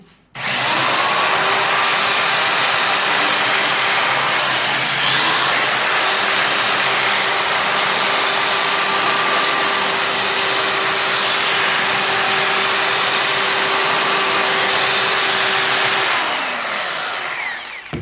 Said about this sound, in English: Next I will show you how you want to sand some corners.